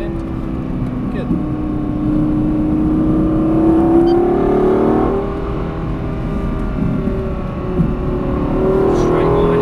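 A Lexus LFA driven on track at Silverstone, its engine a steady droning tone that swells and climbs in pitch under load, heard from inside the car with a voice speaking over it.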